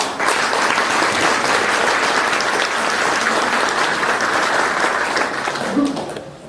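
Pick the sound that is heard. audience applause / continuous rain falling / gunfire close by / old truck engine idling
audience applause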